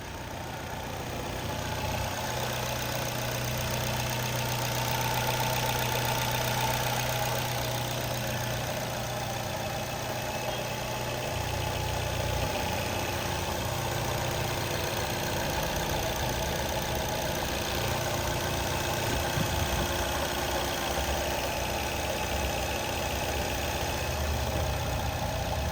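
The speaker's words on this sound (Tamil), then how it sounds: "வண்டியோட இன்ஜின் நாய்ஸ்லாம் கேட்டிருப்பீங்க." A 2012 Maruti Swift Dzire automatic petrol engine idling with a steady, even hum and faint mechanical ticking, close and continuous throughout with no talk.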